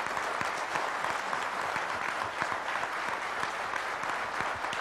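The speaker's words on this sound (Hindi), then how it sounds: "वो लोग ताली बजाएं।" Studio audience clapping on the Aap Ki Adalat courtroom-style TV show, dense sustained applause from a large crowd, loud and fairly close, with occasional sharper individual claps poking through the steady roar.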